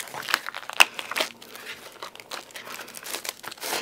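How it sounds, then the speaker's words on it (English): Stencil paper slides out of its plastic packet for cardmaking, a close, continuous rustle and crinkle of packaging with a few sharper crackles, heard alone without talk. "If I take this out of the packet, and you can see it's still in its packaging"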